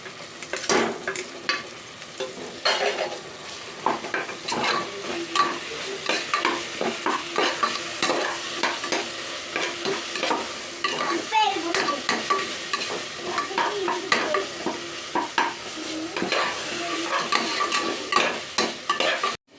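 Tomato, onion, ginger and garlic sautéing in a pan for vegetable sprouted pea biryani, with a continuous oily sizzle broken by frequent sharp scrapes and knocks of a spoon stirring close by.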